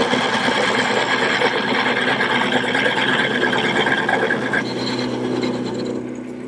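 A wood lathe spins a bed post as a gouge cuts it, giving a steady, dense whirring and rasping drone that stays loud throughout, then eases slightly near the end.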